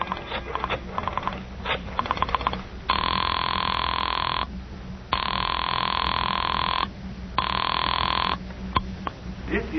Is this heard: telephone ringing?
yes